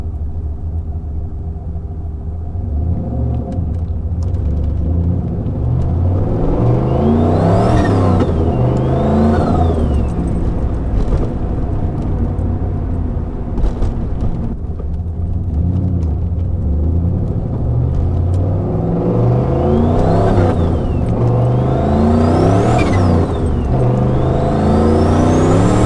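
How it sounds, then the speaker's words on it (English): LS-powered Trans Am with a T51R turbo compressor housing, the engine revving repeatedly with loud rising-and-falling rumbles and turbo whistles that sweep up and back down over a steady idle, close and loud. "The sounds that this compressor housing makes was well worth it."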